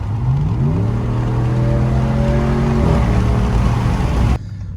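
A 2019 Ram 1500 pickup with a K&N intake accelerates from a roll with the windows down, its engine note climbing steadily in pitch and staying loud and close before cutting off abruptly near the end.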